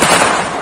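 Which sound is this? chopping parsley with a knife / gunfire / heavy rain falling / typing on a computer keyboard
gunfire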